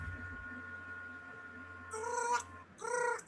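A voice imitates seagull calls: two short, bright squawking cries after a quiet stretch of low hum, the second following a brief pause.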